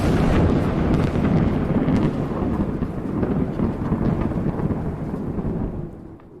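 Thunderous lightning strike sound effect with a loud crackling, rumbling burst and rain-like hiss that slowly fades out over several seconds, heard alone without talk.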